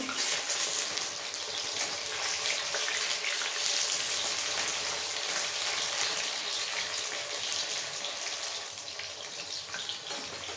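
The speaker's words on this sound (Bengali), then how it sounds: "এভাবে উল্টে পাল্টে চিকেনগুলো ভেজে নেব।" Chicken pieces frying in hot oil for chilli chicken while being turned over, a dense continuous close-up sizzle and hiss that eases slightly toward the end, with no talking.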